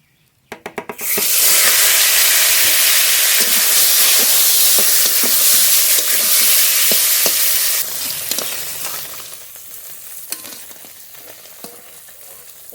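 Small puti fish frying in hot oil, dropping in with a few splashes before a loud, continuous crackling sizzle that steadies and then eases off, with scattered pops and clicks near the end.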